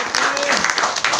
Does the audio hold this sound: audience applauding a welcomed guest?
yes